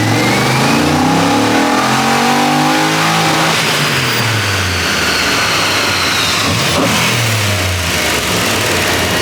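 LS V8-swapped BMW E46 on a dyno, the engine revving hard with rising and falling pitch sweeps, loud and close, climbing in two pulls with a drop in between.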